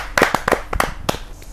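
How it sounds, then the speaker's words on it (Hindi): Scattered claps burst out in a few sharp, uneven clusters as an audience welcomes a poet at a Haryanvi kavi sammelan, fairly close and brief, with no talking. "जोरदार ताली के साथ हम उनका स्वागत"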